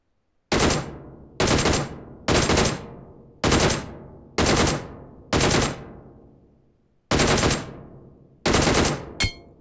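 Bursts of automatic gunfire from a DP light machine gun in the mobile shooter game PUBG/BGMI, loud and close, come in about eight evenly spaced rapid volleys of roughly half a second each, separated by brief silences.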